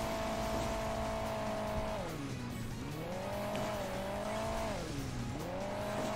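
A car engine drones in the Hill Climb Racing 2 mobile game, its steady buzzing tone rising and dipping in pitch as the vehicle accelerates and slows on a wintry track, loud and continuous with no talk.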